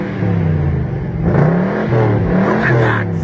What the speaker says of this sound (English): Listen to the sound of the V8.